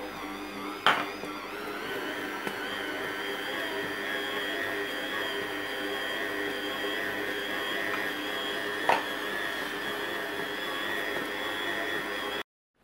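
A kitchen stand mixer kneads bread dough for stuffed pastries filled with chicken and vegetables, a steady whirring motor hum throughout with a couple of brief knocks, and the sound cuts off abruptly at the end.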